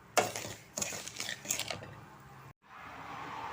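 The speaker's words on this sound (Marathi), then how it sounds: "त्याच्यामध्ये हे थोडंसं तूप घालून घेते आणि व्यवस्थित परतून घेते" Semolina (rava) roasting in ghee in a pan, stirred with a spoon: a few scraping clinks and soft gritty stirring strokes, fairly close, fading before a brief gap of quiet.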